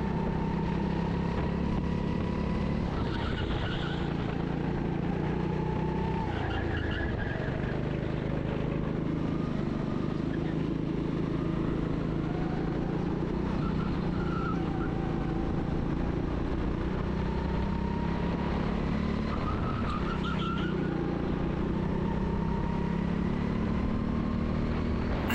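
A go-kart engine races around the Parkwood Karting track in Sheffield, a continuous onboard drone whose pitch rises and falls through the corners, loud and steady throughout with no talking.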